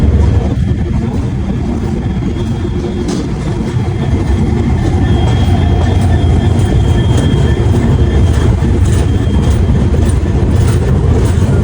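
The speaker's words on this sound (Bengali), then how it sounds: "সঠিক সময় আমাদের ট্রেন ছেড়ে যাচ্ছে হচ্ছে গুয়াহাটি স্টেশনের উদ্দেশ্যে এনজিপি স্টেশনের 1 নম্বর প্ল্যাটফর্ম থেকে" Saraighat Express train pulling out of platform 1 at NJP station, bound for Guwahati: steady loud rumble of rolling wagons with faint clickety-clack and occasional wheel squeal throughout, no talking.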